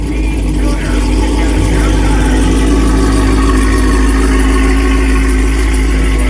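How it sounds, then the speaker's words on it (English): Loud exhaust from a Cadillac CTS-V on Toyo Proxes tires at Summit Motorsports Park drag strip, Norwalk, during the 2021 Hot Rod Power Tour, running steadily throughout with a deep, continuous rumble and idling drone, close and dominant. "And an exhaust. It's pretty loud."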